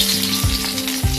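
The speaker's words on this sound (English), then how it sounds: "stir fry the shallot" Shallots stir-fried in a pan for a salted soybean paste prawn dish sizzle loudly and steadily, with a couple of short scraping stirs of the spatula across the pan.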